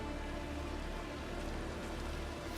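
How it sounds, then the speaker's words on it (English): Steady rain falls in the open-world game The Witcher 3, a dense, even hiss with no breaks or distinct drops, heard alone without talk. "Looks like rain."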